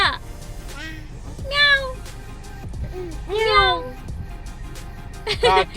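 A voice imitates a cat's meow several times, each a rising-falling wail, with quiet chatter and background noise between the calls.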